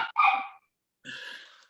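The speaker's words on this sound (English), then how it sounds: "Oh, dog." A dog barking at a window cleaner, two short indoor yaps: a quick double bark, a pause, then a longer, fainter bark.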